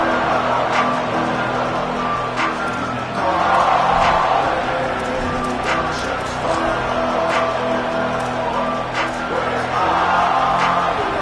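A football stadium crowd roars steadily and swells around a kickoff, a dense, loud wash of cheering with a commentator's voice talking over it.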